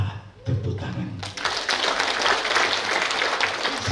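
A church congregation of Toraja pastors and families breaks into applause at a closing service, opening with a brief spoken voice and then swelling into dense, sustained clapping from many hands.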